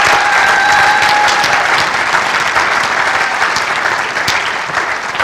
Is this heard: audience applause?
yes